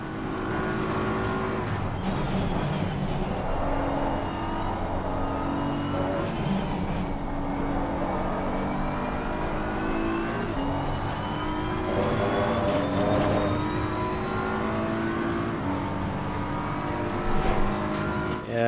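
A McLaren race car on the Suzuka circuit in a racing game drones with a sustained engine note that rises and falls through gear changes, growing closer and louder toward the end, with no talking.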